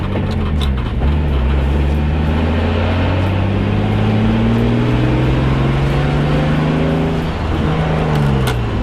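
A boosted car with an MS43-tuned engine pulls hard in third gear, its note climbing steadily in pitch as revs rise, loud and close from inside, with a brief dip near the end.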